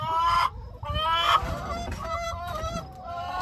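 Farmyard chickens clucking and honking near homemade roll-away nest boxes, a continuous loud jumble of squawks and calls filling the whole stretch with no talk over it.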